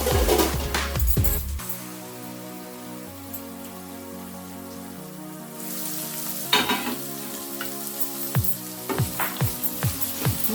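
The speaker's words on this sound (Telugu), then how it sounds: "కాలీఫ్లవర్ వేసాను కదా, కొంచెం సిమ్లో పెట్టి మూత పెట్టుకుందాం" Cauliflower for gobi curry cooks in a covered pan on low heat, giving a soft sizzle and crackle. Sustained tones play at first, then irregular spitting pops take over near the end.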